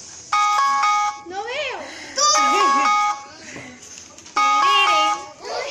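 A mobile phone ringtone set for one friend's calls plays its bright, bell-like melodic phrase three times. Between the rings, a voice chatters and squeals, and an adult speaks briefly.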